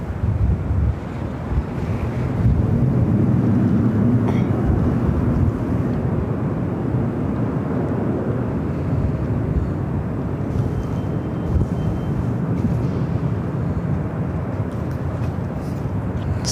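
Jet airliners taking off and landing at LAX airport, heard as a continuous heavy roar mixed with gusty wind buffeting the microphone, with no talk.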